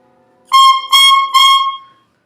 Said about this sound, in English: Now the reed on the mouthpiece itself sounds like this.